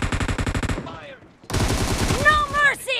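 Rapid bursts from an MP49 submachine gun in a 2v2 team deathmatch shooter game, loud and close for under a second, then a pause before another stretch of fire with whistling, ricochet-like sweeps over it.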